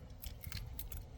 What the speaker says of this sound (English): Get our keys, unlock